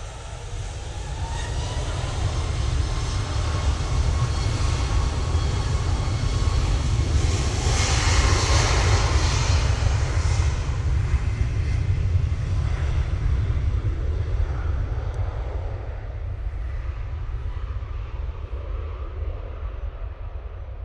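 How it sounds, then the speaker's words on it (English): A Ryanair jet taking off gives out a loud, continuous engine roar with a heavy low rumble that swells toward the middle and then slowly fades as the aircraft moves away. "This Ryanair gets off the ground double quick"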